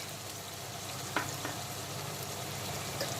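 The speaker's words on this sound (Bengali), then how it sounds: "প্রথমে দিয়ে দিচ্ছি আদা আর রসুনের মিহি পেস্ট" Fine ginger and garlic paste frying in a kadai for a green jackfruit and egg curry, a dense, even sizzle throughout with a couple of brief spoon scrapes, close and steady, no talking.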